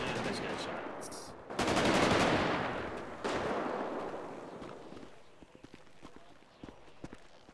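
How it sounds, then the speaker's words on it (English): Video game gunfire in bursts, loud near the start then fading into sparse scattered shots and clatter, with a faint voice in the mix. "And there's gunshots."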